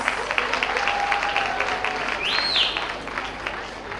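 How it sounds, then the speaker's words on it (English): Audience applause for graduating students at a preparatory school graduation ceremony. Steady clapping runs throughout, with a few voices and cheers mixed in. "Another round of applause for our students."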